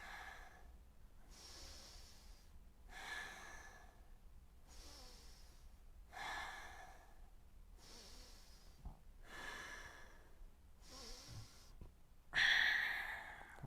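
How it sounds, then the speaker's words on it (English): Slow, deep breaths during a yoga class, about seven soft inhale-exhale cycles with steady even rhythm, close and fairly quiet, ending on a louder breath. "Let's take 5 deep breaths here."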